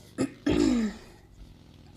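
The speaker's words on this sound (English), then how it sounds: "I'm trying to clear my throat with some hot water" A man clears his throat in two rough bursts, a short one followed by a longer, louder rasp, close by, then quiet.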